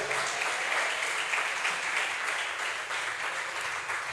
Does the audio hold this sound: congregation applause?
yes